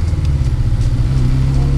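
A 1991 Robin Reliant three-wheeler driving, its engine giving a steady, close, low droning rumble with slight fluctuations and no talk over it.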